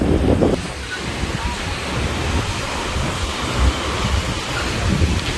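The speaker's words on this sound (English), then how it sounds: "It's really windy here. Too windy." Strong wind roars steadily across the microphone at Phoenix Beach in Tsilivi, Zakynthos, at night, with loud low buffeting gusts and a constant broadband rush that mixes with surf-like noise.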